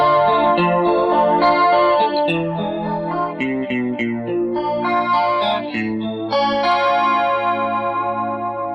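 A guitar through a VFE Choral Reef chorus pedal with a swirling, wobbling Leslie-like rotating-speaker effect plays sustained chords and notes continuously, loud and close.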